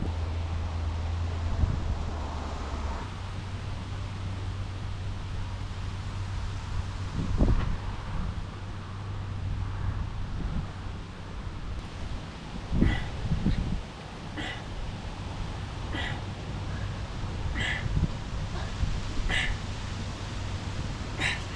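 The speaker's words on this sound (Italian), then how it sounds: "C'è un po' di vento" Gusty wind buffets the microphone outdoors with a low rumble, and faint rustling and a few light clicks come through toward the end.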